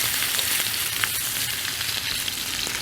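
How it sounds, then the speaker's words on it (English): Ribeye steak searing in a hot cast iron pan, a loud, dense, continuous sizzle and crackle with no talking. "So now we're gonna get this ribeye into the pan. Be careful with this because it is hot, but that is the sizzle we want."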